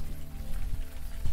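Steady night rain in the video game Unavowed, a dense patter on hard surfaces that stays even and close throughout, with no talking.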